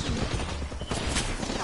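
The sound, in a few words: gunfire aimed at player in PS4 video game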